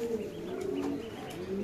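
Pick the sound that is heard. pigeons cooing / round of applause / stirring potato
pigeons cooing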